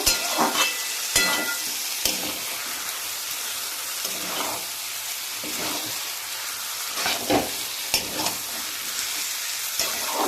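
Fried potatoes and taro being stirred into sizzling spice paste in a pan, steady frying hiss with a few sharp scraping strokes, no talking.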